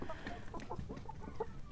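Young chickens on a farm give a scattering of short, quiet clucks and chirps nearby, brief notes spaced through a moment of calm.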